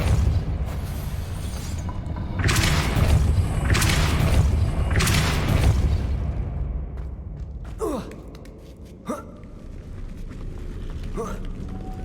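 Depulso spell casts in Hogwarts Legacy burst out as several loud whooshing blasts in quick succession, followed by quieter sharp magical zaps and thuds.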